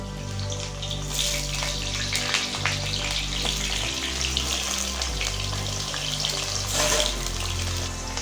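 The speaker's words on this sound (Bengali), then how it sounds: "এবার এই ফুলকপি ভাজার তেলের মধ্যেই বড় বড় করে কেটে রাখা আলুগুলো ভেজে নেব" Loud, continuous sizzling of large potato pieces frying in oil already used for cauliflower, a dense hiss that swells and dips as they are moved around the pan.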